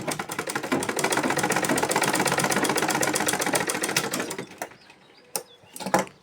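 Sewing machine stitching a lungi, a rapid, even mechanical chatter running close and loud for about four seconds, then stopping, followed by a few sparse clicks and knocks.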